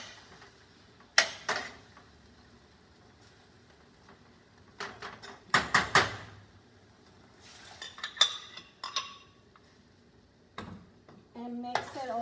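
Tomatillo, garlic, onion and cilantro sauce poured into a pan for pork chile verde and stirred, with scattered clinks and scrapes of a utensil against the pan coming in short bursts, close and moderately loud.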